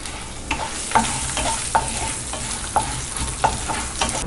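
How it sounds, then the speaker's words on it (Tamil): Chana dal, urad dal and red chillies frying in a pan, a steady soft sizzle broken by regular scraping strokes of a spoon about every half second, close and fairly quiet. "1 டேபிள் ஸ்பூன் உளுத்தம் பருப்பு நல்லா பொன்னிறமாக வறுத்துக்கலாம்"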